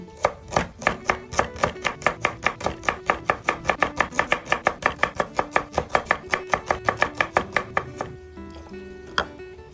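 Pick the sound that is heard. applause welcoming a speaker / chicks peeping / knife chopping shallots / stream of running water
knife chopping shallots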